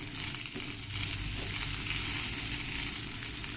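Spring roll filling with chopped green chillies frying in a little oil in a pan, a steady close sizzle that holds evenly throughout.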